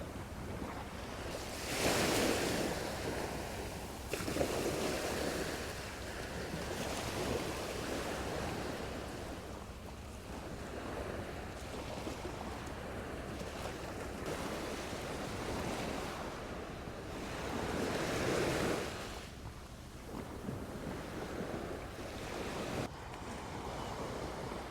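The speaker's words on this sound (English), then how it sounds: "the main thing I can hear down here are the waves just crashing on the shoreline" Waves crash steadily onto the shoreline at Magaluf beach in Majorca on a quiet February day, rolling surges rising and falling every few seconds with a soft wash and light wind noise between them, no voices.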